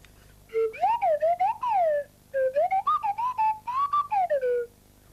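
A person whistles a string of short, gliding, chirpy phrases in two bursts, imitating creatures chattering to each other, with no talking.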